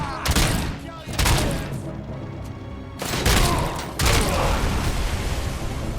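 A grenade blast and gunfire in RoboCop: Rogue City: heavy booming bursts and crackling shots arrive in separate loud waves, near and forceful, with some mechanical clatter between them.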